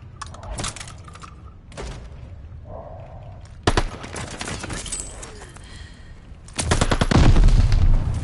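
Gunfire in a console shooter video game: bursts of rapid automatic fire and single shots come in clusters, loud and close, separated by quieter gaps with faint game sounds.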